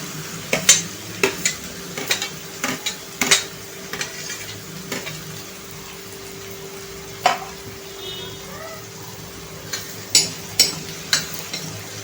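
Finely chopped onions added to browned cumin and frying in a pan for pav bhaji, a soft steady sizzle with repeated clinks and scrapes of a spoon stirring, close and fairly quiet.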